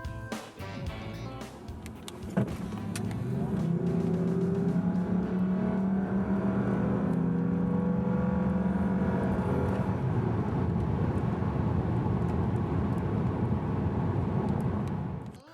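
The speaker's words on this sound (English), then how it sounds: "Straight line acceleration is quite thrilling for a sedan of this heft" A 2013 Lexus GS450h hybrid sedan accelerates hard from a start, its engine rising in a sustained, loud drone with climbing tones that holds steady for over ten seconds, heard from inside the car with no talking.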